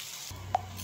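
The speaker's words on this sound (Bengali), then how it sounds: "তাহলে চলুন আমি বড়াগুলো কিন্তু ভেজে নিচ্ছি" Bottle gourd leaf and sesame fritters fry in a pan, a soft continuous sizzle that shifts as a low hum starts, with a brief clink of a utensil midway.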